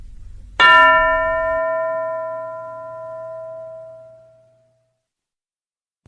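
Single bright bell strike in a classroom, sharp onset then a long ringing decay fading over about four seconds, alone with no talk.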